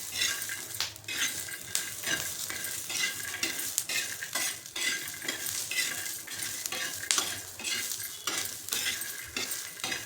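Peanuts, green chilies and garlic roasting in a pan for thecha, with a steady dry sizzle and repeated stirring scrapes and clinks of a utensil against the pan, close and continuous with no talking.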